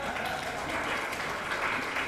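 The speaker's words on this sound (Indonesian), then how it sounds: "Tepuk tangan buat Mas Najib." Audience at a university public lecture on Islamic communication clapping for a guest, a steady, fairly soft patter of many hands with no break.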